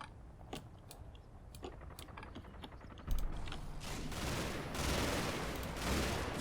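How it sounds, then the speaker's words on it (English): Machine gun fire in the Combat Mission World War II game, with rapid bursts of distant shots crackling at first, then denser, louder sustained firing and rumbling blasts. "The usual barrage of MG fire going out."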